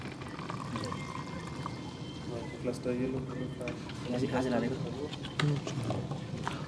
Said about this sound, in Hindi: तो मैं आपके सामने इसमें अल्कलाइन वाटर भरूंगा अभी